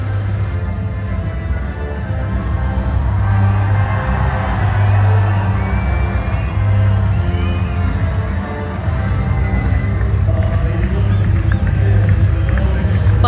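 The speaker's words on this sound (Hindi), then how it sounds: "फुल हूटिंग कर रहे हैं, फुल चेयर कर रहे हैं" A large crowd hooting and cheering at the Attari-Wagah border parade near Amritsar, a steady dense roar of voices and whoops that runs loud throughout.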